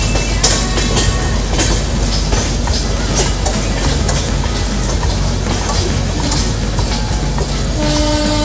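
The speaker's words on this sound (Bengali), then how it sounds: "ট্রেনটা এদিক দিয়ে চলে যাচ্ছে, বাঁদিকে এটা পুরী চলে যাচ্ছে, ডিরেক্ট পুরী।" Loud train rolling steadily past on a line from Kolkata toward Brahmapur near the branch for Puri, with continuous rumble and rattle and horn blasts sounding throughout, no talking.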